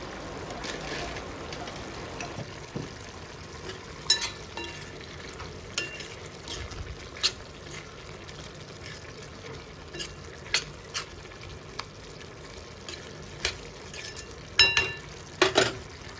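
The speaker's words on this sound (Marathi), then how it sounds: "पुन्हा मिश्रण छान ढवळून घेऊ" Drumstick (moringa) and peanut curry mixture being stirred in a frying pan, with a steady sizzle underneath and repeated sharp scrapes and clacks of a spoon against the pan, no voices.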